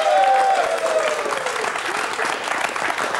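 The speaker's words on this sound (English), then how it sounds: "let's have a round of applause for Gordon" A studio audience gives a short burst of applause for a radio show competition winner, dense clapping that is loud at first and then eases off a little, with a brief tone sounding at the start.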